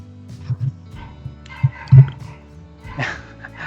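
A dog barks somewhere in the background, with a few muffled low woofs scattered through the stretch, partly under a man's speech in a conversational podcast setting.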